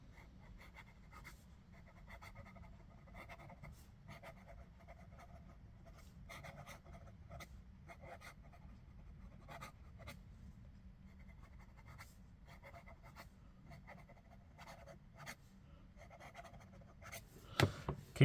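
A Hongdian D1 fountain pen with a fine, fairly wet nib writes on paper, giving a soft continuous scratching with small repeated strokes. It is close and quiet over a low background hum, with a few sharper taps near the end.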